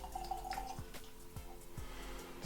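Dalwhinnie 15-year-old single malt whisky is poured into a glass: faint, brief liquid trickles and drip-like splashes with a few soft clinks over a low background hum, fairly close.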